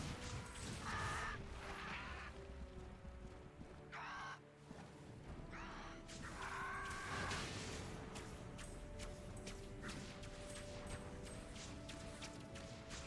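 Crows caw repeatedly in the Disney-Pixar Brave video game, harsh calls recurring over a dense layer of game music and mechanical effects.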